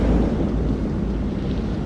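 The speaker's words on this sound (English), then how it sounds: "Find out how long the storm is gonna last." A thunderstorm rages in the video game Man of Medan, a steady, loud wash of low rumbling wind and rain with no distinct breaks across the short stretch.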